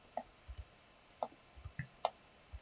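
A computer keyboard key pressed repeatedly while deleting lines in SketchUp, giving several soft, quiet clicks at irregular intervals with faint thumps between them and no talking.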